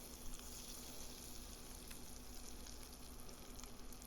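Butter and pork bits sizzle in a frying pan, a dense, steady crackling hiss with small pops, close and continuous, with no talking.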